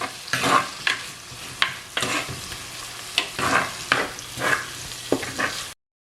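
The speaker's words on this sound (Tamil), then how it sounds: "இதை நல்லா மிக்ஸ் பண்ணி விடுங்க." Curry leaves and whole spices frying in oil in a pan for a country chicken curry, stirred with rhythmic scraping strokes over a continuous sizzle, close and clear with no voices.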